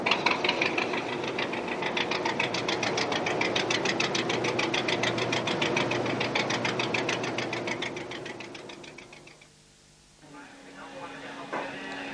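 A boat's engine chugs with a steady, rhythmic knocking as the vessel heads out to sea, loud and close, fading near the end; a voice speaks over it.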